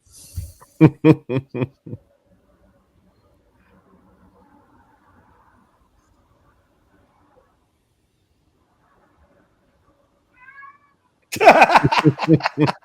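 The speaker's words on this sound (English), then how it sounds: "Is that Stormcloud's actual meow?" A cat meows in a series of short, loud calls near the start. After a long quiet stretch, a longer drawn-out meow or caterwaul comes at the end, up close.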